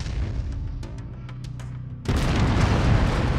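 AC-10 autocannon in MechWarrior 5: Mercenaries lets loose a heavy, loud, sustained roar of fire that cuts in abruptly after a stretch of lower rumbling and scattered sharp clicks.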